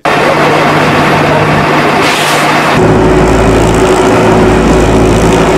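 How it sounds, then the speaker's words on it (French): Heavy road-construction machinery engines drone loudly and continuously, a deep rumbling mix of idling and revving close by, with the pitch shifting partway through. "Plusieurs moteurs d'engin tournent à plusieurs chevaux"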